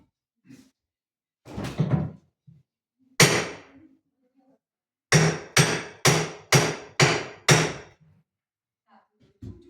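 Hammer blows during renovation of a children's room, a few scattered knocks followed by a rapid run of six sharp, evenly spaced strikes, close and loud with quiet gaps between.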